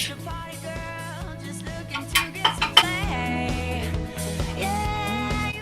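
Cheesecake batter with added cornstarch and sugar being mixed in a bowl, with clinks and scraping of a utensil against the bowl, some sharper knocks midway, over faint background music.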